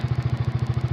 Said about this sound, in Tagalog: habang pinapainit natin yung makina natin